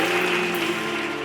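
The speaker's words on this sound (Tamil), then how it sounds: "கைத்தட்டி அந்த அன்புக்கு நன்றி சொல்லுங்க." Audience at a church service clapping together in thanks, a steady continuous wash of hands at moderate loudness over the full span, with faint held tones from music or a voice underneath.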